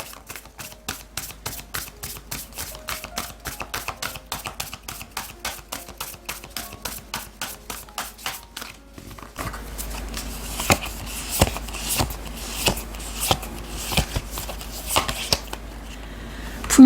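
Tarot oracle cards shuffled by hand in a steady, rapid riffling patter for over eight seconds, then looser slapping and shuffling sounds with scattered sharper taps, close and clear with no talking.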